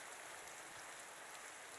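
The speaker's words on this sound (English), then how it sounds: "Why is it raining inside? Because I have an open roof." Steady rain pours and patters on surfaces inside a room beneath an open roof in Southern California, a continuous dense hiss with no talking.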